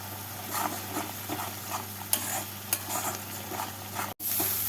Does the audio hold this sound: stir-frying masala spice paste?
yes